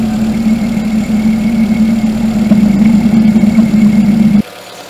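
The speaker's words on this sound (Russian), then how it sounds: "Вот слышно, как работает подшипник." A car alternator bearing running, heard up close through a stethoscope as a steady humming whir with a faint rattle, holding constant before cutting off abruptly near the end.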